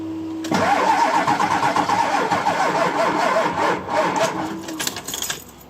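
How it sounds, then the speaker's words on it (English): Diesel bus engine with glow plugs, jump-started from a 2000A portable jump starter, cranks loudly in a rapid, even rhythm for several seconds. It then sputters unevenly and cuts out, with no voices. "Let's see if we can start the bus"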